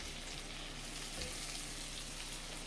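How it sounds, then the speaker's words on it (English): Onions caramelizing in a pan give off a soft, continuous sizzle, low and even, with a faint hiss and no voices over it. "see how the onions are getting all crystallized and caramelized and shrinked up"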